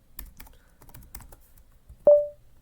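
A computer keyboard clatters with a short burst of quick, light keystrokes as a command is typed in a Linux terminal, followed by a sharper single tone near the end, with no voices.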